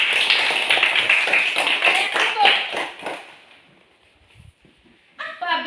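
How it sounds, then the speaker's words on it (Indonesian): Classmates in a school lesson clap for a student, a quick run of loud rhythmic claps that fades into near quiet before a voice starts speaking at the end. "Iya, tepuk tangan untuk Fesi."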